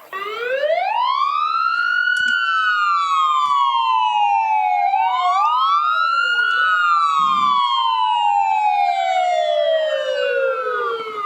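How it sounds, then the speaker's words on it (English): Emergency vehicle sirens sound loud and close during a Fourth of July parade in Park River, long wailing tones that rise and fall continuously over several overlapping cycles, with no talk over them. "They love those sirens."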